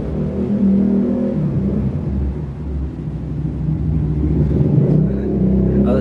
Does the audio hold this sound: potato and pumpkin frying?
no